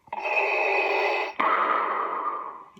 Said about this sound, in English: Classic Darth Vader breathing.